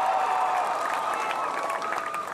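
An audience at a Malaysia Day gathering applauds, a short stretch of moderately loud, fairly steady clapping with some crowd murmur mixed in.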